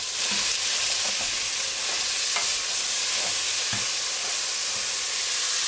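Mirepoix vegetables with bacon sizzle in a soup pot for pasta fagioli, a continuous loud hissing fry close up with a few faint clicks of stirring and no talk.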